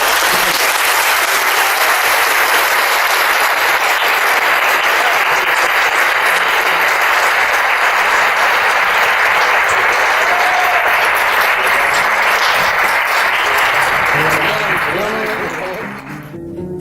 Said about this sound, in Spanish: Ángel Gilberto Adame, a quien vamos a despedir con un aplauso